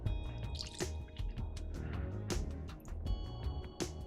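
Wine poured over a pork belly roast gives a series of quiet, irregular drips and splashes, soft liquid spatters landing close by without talk.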